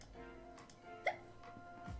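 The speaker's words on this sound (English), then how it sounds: "Hiccups." A single short hiccup from a person in a quiet indoor room, one sharp faint burst with soft background hum and no talking around it.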